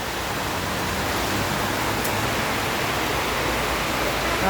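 Heavy evening rain pours down in Sylhet as a dense, constant roar of rushing water, loud and unbroken for the whole stretch.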